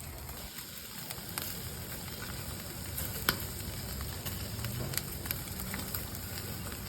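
Beef ribs slathered in barbecue sauce sizzle steadily on a hot cooking surface, a dense, continuous crackling hiss with a few sharper pops, close and fairly loud, with no talking.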